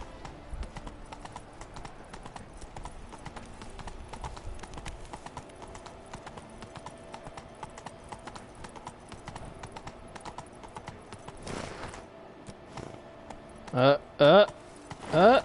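Roach, a horse in the Witcher 3 video game, gallops with steady, rhythmic clip-clopping hooves throughout, and a voice speaks briefly near the end.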